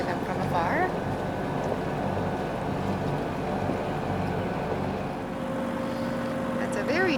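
A sailboat's engine drones steadily and evenly on the water, a constant low hum throughout, with faint bird calls and a voice talking over it.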